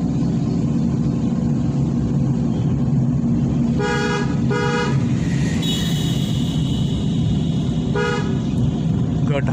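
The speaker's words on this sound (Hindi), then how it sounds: "हर एक टर्निंग पे आपको हॉर्न देना है" A car horn honks during turns in driving practice: a couple of short toots, a longer blast, then another toot, over a steady engine and road rumble inside the car.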